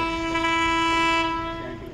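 A passing train sounds its horn, a loud sustained multi-tone blare held close by for about two seconds and fading slightly at the end.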